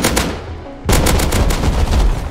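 AK rifle gunfire in the survival video game Rust. Loud, close bursts of rapid automatic shots come in two runs separated by a brief gap, with no talking.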